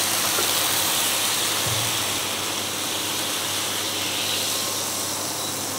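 Water poured into a hot kadai while making stuffed chicken naan brings a loud rushing hiss of steam, a short burst near the start, then a steady, strong steaming roar with no voices.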